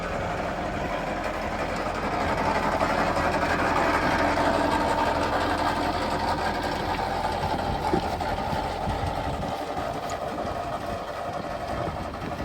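A tractor-drawn elevator digger lifts Jersey Royal potatoes from a stony cliff-top field, giving a steady mechanical engine drone with a rattling, clattering chain rumble that holds evenly throughout at moderate loudness.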